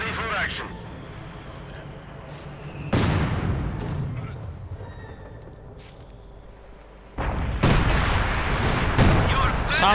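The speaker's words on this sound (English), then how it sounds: "Sounds like he was shooting at something there" Gunfire and artillery in a Company of Heroes 2 tank battle between an ISU, a T-34 and a PaK-40, with sudden loud blasts and rumbling bursts around the three-second and eight-second marks over a continuous battlefield din, and a commentator talking.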